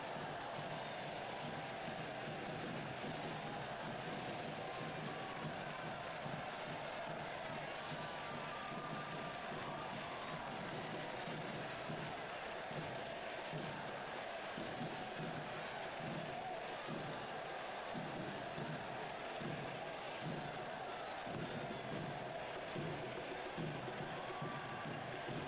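Stadium crowd at an NWSL women's soccer match between Angel City FC and San Diego Wave in 2022, a steady dense roar of spectators that carries on throughout with no clear breaks.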